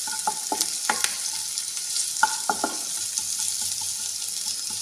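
Crushed garlic and slit green chillies frying in oil over medium flame, a bright continuous sizzle with a series of quick spatula knocks and scrapes against the pan, near and clear, no speech.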